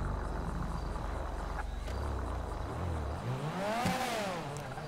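A car engine in the video game GTA 5 revs up into a rising and falling whine near the end, over a steady low engine drone and a thin insect-like hiss.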